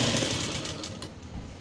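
A sewing machine stitches elastic onto palazzo pants, giving a short, close, dense mechanical whir that fades slightly toward the end, with no talk.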